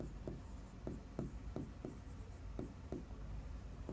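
A word being handwritten, a series of short scratchy pen strokes in an uneven rhythm, close but faint against a quiet room, no talking.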